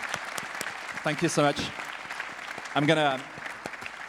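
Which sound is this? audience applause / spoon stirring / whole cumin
audience applause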